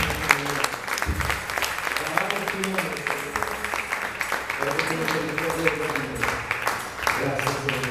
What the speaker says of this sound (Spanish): Todo el aplauso fuerte